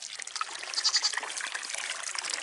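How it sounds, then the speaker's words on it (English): Water pours into a tank in a steady, continuous trickling splash, close by and moderately loud for the whole stretch, with no talk. "time to fill water"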